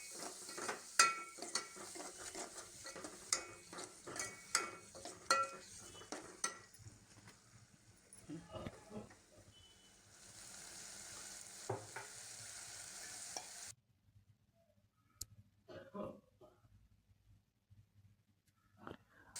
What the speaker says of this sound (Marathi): आता भिजू घातलेली मुगाची डाळ त्यामध्ये मिक्स करूया आणि मुगाची डाळ आणि सुरुवातीचं मिश्रण चांगलं एकजीव करूया